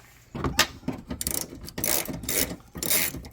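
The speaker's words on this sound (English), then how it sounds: "And then we got to take a couple bolts out of there." A ratchet wrench loosening bolts on a 3000GT bumper in a shop, with rapid clicking bursts and scraping metal handling, close and fairly loud, no talking.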